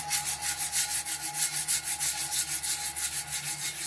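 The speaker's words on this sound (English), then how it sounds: "I'm gonna take my sandpaper and we're gonna go around, and it sounds loud" Rhythmic rasping of sandpaper rubbed in quick circular strokes over a tumbler cup, close and fairly loud, over a steady low hum.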